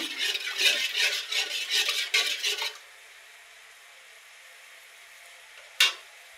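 Spices fried in a pan with a splash of water added, sizzling and being stirred loudly for a few seconds before dropping to a faint hiss, then a single sharp clink near the end.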